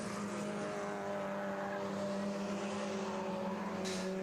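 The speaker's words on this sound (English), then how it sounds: "So the cars then head across the line further back." Mazda MX-5 Clubman race cars cross the line at Croft Circuit, a steady engine drone with several tonal bands heard from a distance, continuous and fairly faint throughout.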